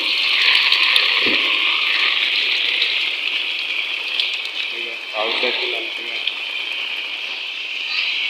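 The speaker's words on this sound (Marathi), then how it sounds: "हा बघा पाऊस अजून चालू आहे" Steady monsoon rain hisses continuously around old tiled-roof houses in Konkan, with a voice speaking briefly partway through.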